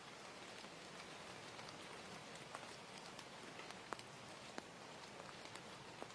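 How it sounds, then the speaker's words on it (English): Steady rain patters on glass, with scattered sharper drops ticking now and then over a soft constant hiss. "The rain was still ticking against the windows"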